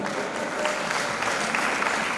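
Audience applause at an International Women's Day event as a chairwoman of an association of professional women engineers takes her seat; dense, steady clapping from a crowd, fairly loud and continuous throughout.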